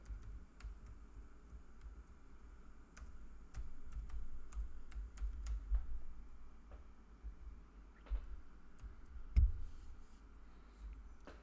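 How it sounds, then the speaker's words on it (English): Someone types on a computer keyboard, producing soft, irregular clicks and taps with brief pauses, plus a couple of louder key strikes near the end, over a quiet room. "I know I'm typing a lot of stuff here."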